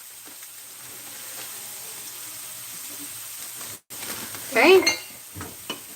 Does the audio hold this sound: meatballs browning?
yes